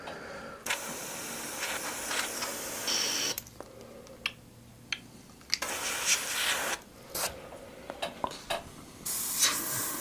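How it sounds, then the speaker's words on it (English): An airbrush sprays cool grey paint over metal and rivet detailing, giving a close, continuous hiss that swells and drops in short bursts, with small clicks and gaps in between. "Go back in with the cool grey in the airbrush"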